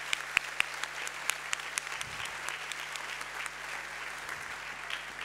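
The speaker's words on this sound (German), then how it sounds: "Einmal Applaus für die fleißigen Helfer," A live show audience applauds steadily for the stage helpers, a close, even wash of many hands clapping with no break for about five seconds.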